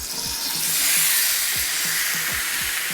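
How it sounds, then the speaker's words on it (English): Hamburger meat with taco seasoning sizzling in a skillet, giving a steady loud hiss with faint crackling pops throughout. "So I'm gonna put my meat in this awesome skillet"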